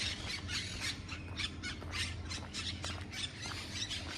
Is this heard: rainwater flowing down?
no